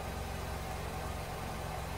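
Engine of a 2015 Nissan Rogue with a CVT in limp mode, idling as a steady, low, even hum, faint and unchanging, with no voices.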